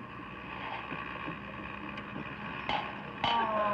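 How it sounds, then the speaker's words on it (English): A boat motor runs in an engine room, a steady close mechanical drone with a low hum and some higher whine, two brief clanks near the end. "Would you mind starting the motor in the engine room there?"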